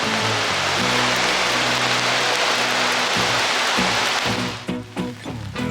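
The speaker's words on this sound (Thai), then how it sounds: "วันนี้ฝนตกนิดหน่อย" Dense, steady rush of light rain near waterfalls at Letchworth State Park, New York, loud and continuous, with a low hum underneath that fades near the end.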